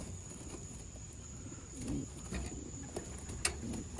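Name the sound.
pigeons cooing in shipping boxes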